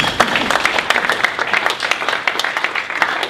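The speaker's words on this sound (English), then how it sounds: "Give a round of applause also to Wisdom." An audience at a holiday pitch competition breaks into applause, a brief burst of scattered, fairly close clapping from a modest crowd.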